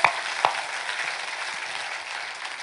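A church congregation at a Friday worship service applauds. A couple of sharp claps come first, then a steady wash of clapping that fades slightly, with no voices over it.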